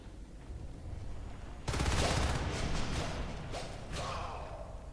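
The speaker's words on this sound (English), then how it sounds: "the level 2 sounds like it's firing slower, but it's firing higher caliber bullets" Level 2 turret in a strategy video game opening fire with heavier-caliber rounds, a sudden burst of rapid, loud shots that continues in clustered volleys over low background noise.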